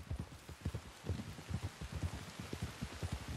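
Rain pours in the Red Dead Redemption 2 game world, a soft constant wash of falling water under a steady rhythmic clip-clop of horse hooves, heard alone with no voices.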